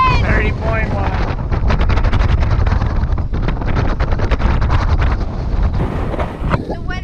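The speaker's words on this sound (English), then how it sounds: "The weather today said 10 to 20 knots, and it's 30 knots at anchor!" Strong gale-force wind, around 30 knots, buffeting a sailboat at anchor off Lanai, Hawaii, a loud continuous roar and microphone rumble with gusty rattling throughout, and voices briefly heard over it.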